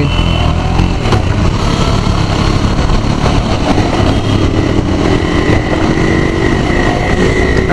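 A KTM Duke 250 motorcycle being ridden, its engine a loud, continuous drone with gradual pitch rises as it accelerates, mixed with heavy wind rush throughout.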